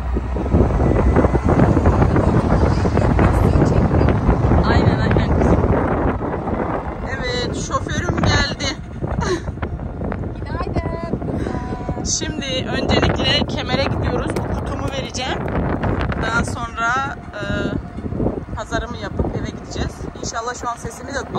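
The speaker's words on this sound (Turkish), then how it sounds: "Bayağı bir rüzgarlı." Strong gusts buffet the microphone outdoors, a loud continuous roar of wind rumble dominating throughout, with a voice speaking intermittently beneath it.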